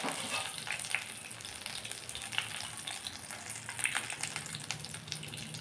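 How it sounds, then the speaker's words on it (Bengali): Chicken frying in a pan over low heat gives a steady, close sizzle with fine crackling pops throughout, a few louder spits standing out, and no voices. "আমার যে চিকেনটা আমি দিয়েছিলাম সেটা কিন্তু এই যে অলরেডি ফ্রাই হচ্ছে"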